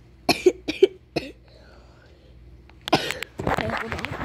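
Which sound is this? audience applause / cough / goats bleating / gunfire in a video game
cough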